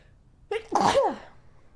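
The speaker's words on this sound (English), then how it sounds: "I'm going to sneeze." A single loud sneeze bursts out after a short intake of breath, close by, in an otherwise quiet room.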